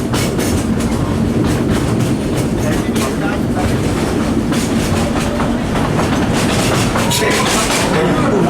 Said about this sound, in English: please remain seated till the train completely stops within the station.